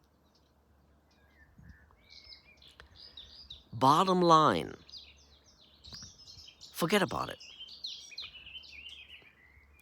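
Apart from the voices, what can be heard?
birds chirping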